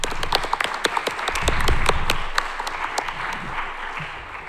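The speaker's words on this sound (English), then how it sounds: "A quick round of applause for Reyyan." Quick round of applause at an academic computer science workshop, a modest group clapping with distinct individual claps audible, swelling briefly in the middle before thinning out, heard alone without talk.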